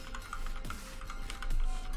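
Typing on a computer keyboard nearby: quick irregular clicks and taps of keys, fairly soft against a faint room hum.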